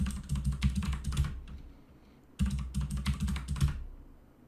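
Two quick runs of clicky keystrokes come from a close-miked computer keyboard as a passphrase is typed while setting up a certificate authority. A brief pause separates the bursts, and no voice is heard.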